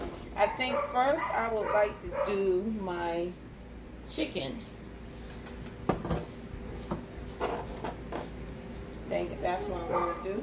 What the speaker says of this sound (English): please excuse my dog. It's making a lot of noise outside.